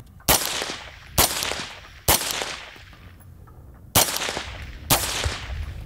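Five shots from a suppressed HK MR762A1 rifle at irregular intervals, each a sharp close crack followed by a short echoing tail.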